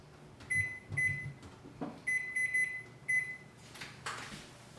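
A kitchen timer being set gives short series of bright electronic beeps in several bursts, close and clear, followed by a soft clunk and rustle.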